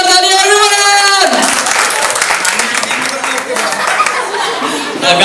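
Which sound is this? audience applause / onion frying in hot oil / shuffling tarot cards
audience applause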